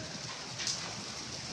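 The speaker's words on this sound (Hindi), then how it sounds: "ये देखिए बारिश" Rain falls steadily outdoors on a windy day, a continuous broadband hiss holding even from start to finish with no voices over it.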